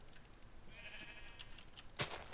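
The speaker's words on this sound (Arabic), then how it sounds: "هنا في خرفان، خلنا بس ندبحهم" A sheep bleats softly in Minecraft, a brief wavering cry in the middle of quiet background clicks, followed by a sharper tap.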